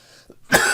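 A single harsh cough bursts out after a brief quiet moment, loud and close, following a small throat sound.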